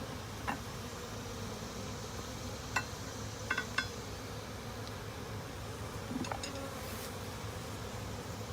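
Honeybees from an absconding hive buzz in a steady, close drone, with a few faint ticks and clicks scattered through.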